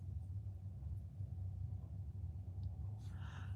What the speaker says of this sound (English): You just saw it's raining with thunder and lightning here.